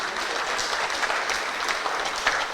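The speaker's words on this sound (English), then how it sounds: "Let's hear a nice round of applause for him." Audience applause at an opening ceremony for a temple's 40th anniversary, a short, steady burst of many hands clapping at close range, with no speech over it.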